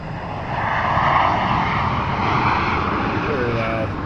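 A small propeller airplane approaching to land at an airport makes a steady, fairly loud engine drone that holds for several seconds, heard from outdoors with people talking over it.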